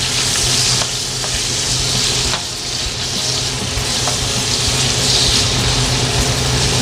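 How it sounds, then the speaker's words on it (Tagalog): Squid balls frying in hot oil in a pan for Filipino chop suey, a loud continuous sizzle with crackling spits and faint stirring scrapes, heard alone. "And then yung ating squid ball. Okay, let's fry it."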